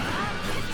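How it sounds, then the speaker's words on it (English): Ness lands a fully charged forward smash in a Super Smash Bros doubles match, a loud crashing impact with a swishing whoosh filling the brief moment. "Fully charged forward smash from Ness is going to take it, actually."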